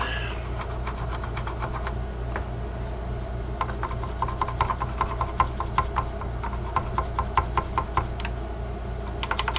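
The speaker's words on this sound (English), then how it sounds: "I really need a stronger scrub brush than a toothbrush." A toothbrush scrubs an Xbox One 1540 circuit board, giving rapid irregular bursts of short, crisp bristle scratches over a constant low hum, close up with no talk.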